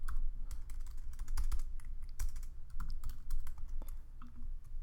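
Quick bursts of typing on a computer keyboard while entering a CSS color value, crisp close-up key clicks in irregular clusters with short pauses between them.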